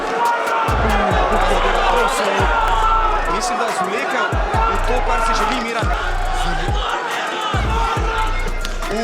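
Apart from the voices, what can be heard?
fighter's fans cheering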